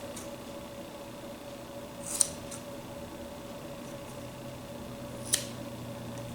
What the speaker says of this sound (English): So I'm going to cut these all shorter because we're not tying it to anything.